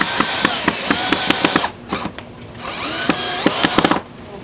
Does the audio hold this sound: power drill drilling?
yes